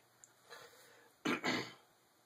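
A couple of harsh throat-clearing coughs, close and fairly loud, preceded by a softer, quieter clearing of the throat.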